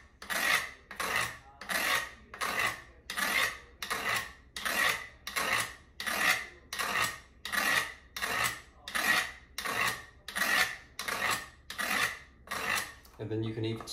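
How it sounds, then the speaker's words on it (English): A Cold Steel knife's serrated edge is stroked back and forth along the corners of Sharpmaker ceramic rods, giving a steady, evenly paced rasp repeated about twenty times, close and clear with no talking. "what I'm gonna do is just almost sharpen it like a plain edge"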